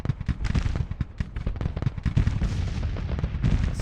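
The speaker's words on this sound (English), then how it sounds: "Let's engage the cannon." Civil War cannon artillery in the strategy game Grand Tactician: The Civil War, many booming shots fired in rapid irregular succession, overlapping into a dense, loud barrage with no pause.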